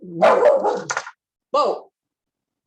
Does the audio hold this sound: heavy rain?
no